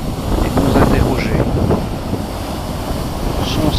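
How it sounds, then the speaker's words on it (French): Choppy sea off Gozo, with waves washing and wind buffeting the microphone in a loud, continuous roar, and a voice faintly audible underneath. "Le lendemain, il y a un peu de clapot."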